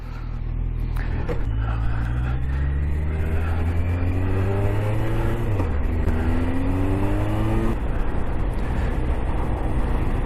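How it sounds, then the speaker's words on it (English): Suzuki GSX 1250 FA motorbike pulling hard along a dual carriageway, its engine note climbing steadily through several gear changes, loud and close throughout with constant wind and road roar. "we'll get it up to some decent speeds, get it up to 60 mile an hour, 70 mile an hour"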